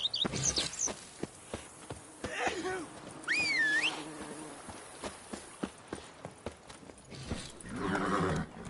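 Roach, the horse in The Witcher 3: Blood and Wine, clip-clops along with hoof thuds and loud neighs and whinnies, close and distinct, several whinnies rising between the steady hoofbeats.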